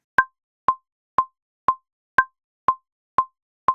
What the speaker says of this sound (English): I'm going to recall the default sound and let you hear that